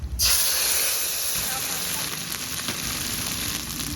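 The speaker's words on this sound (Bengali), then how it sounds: "তেজপাতা এবার বেটে রাখা মশলা দিয়ে দেব" Ground spice paste hitting hot oil in a pan for a vegetarian soybean curry, giving a loud, steady hiss and sizzle that starts abruptly and carries on evenly throughout.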